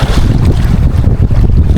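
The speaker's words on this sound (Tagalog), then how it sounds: "Hindi na tumitigil yung hangin kada laot." Strong, steady wind buffets a small fishing boat far out at sea, roaring close into the microphone alongside rough waves and choppy water, with no one speaking.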